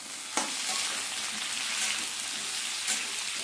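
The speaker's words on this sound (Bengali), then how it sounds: "আদাটাকে সবজির সঙ্গে একটু ভেজে নেবো" Ginger paste frying with vegetables in a pan while a fish and papaya curry is being prepared: a steady, dense sizzle with a couple of sharp stirring scrapes, close and fairly loud, no talking.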